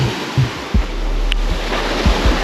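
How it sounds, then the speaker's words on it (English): Ocean waves wash in a steady broadband roar with low rumbling thumps from wind buffeting the microphone, no voices present. "I'm just kind of letting the waves crash and do its thing"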